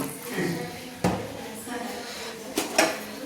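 Chicken curry being stirred in a pot just after water is added: a spoon scrapes and clinks against the pot in a few sharp knocks, close by, with a voice talking over the kitchen clatter.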